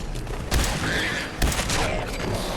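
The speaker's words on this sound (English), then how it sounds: "Opening fire" Gunfire in the game Fallout 4, with two sharp, loud reports about a second apart over a steady, noisy combat background.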